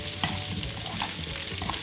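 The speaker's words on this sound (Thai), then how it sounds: "นี่ค่ะผัดไปไฟเริ่มร้อนแล้ว" Duck pieces are stir-fried in butter in a hot pan, with a steady close sizzle and frying hiss broken by the scrape and clatter of stirring, and no talking.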